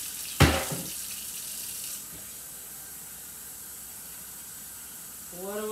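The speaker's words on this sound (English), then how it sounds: "Add a cup of water, a coffee cup of water." Water poured from a coffee cup into a cooking pot of leftover gravy makes a brief hissing splash for about two seconds, then fades to a quiet room. There is no talk.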